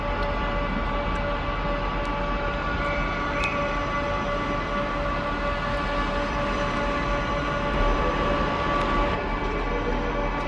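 A train idles at platform 11B of a Worcester railway station, giving off a steady, droning mechanical hum with tonal whine for the whole stretch, with no talk.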